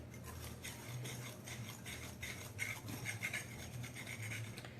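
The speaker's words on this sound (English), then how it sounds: "Got the sugar and the flour in here, and I'm just going to kind of whisk that up just a little bit." A whisk rubs and scrapes rhythmically through sugar and flour in a bowl for a pineapple casserole, quick soft strokes repeating close up at a low level.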